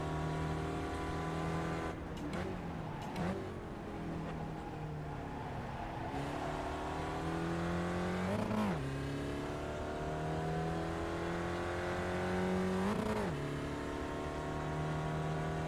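A Spec Racer Ford race car in the iRacing sim at Tsukuba drones steadily at high revs, with sharp rises and dips at gear changes and on corners and faint tire squeal, continuous and without talk.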